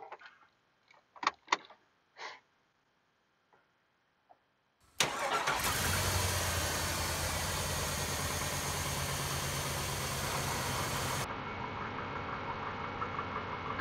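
A Chevy Trailblazer with a 5.3L engine cranks and fires up after a fuel filter change, then settles into a steady, fairly loud idle heard up close from underneath the car, preceded by a few brief clicks.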